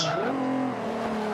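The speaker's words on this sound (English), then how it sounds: "Alright, put on the brakes and there we go." Racing car in Forza Motorsport 5, an early front-wheel-drive sport compact hot hatch, braking hard with its engine note dropping and a brief tire squeal, loud and close, with a voice talking over it.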